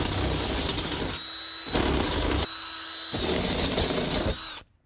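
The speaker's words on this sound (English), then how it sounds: "That step bit just eats right through there." A step drill bit whining through metal in a shop during woodstove piping installation, three bursts separated by short pauses, high-pitched and grinding up close, then cutting off abruptly.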